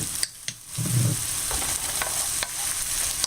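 Food sautéing in olive oil in a pan, with soy sauce added, while making a chicken omelet. A steady close sizzle runs throughout, broken by a few sharp utensil clinks and scrapes, with no talking.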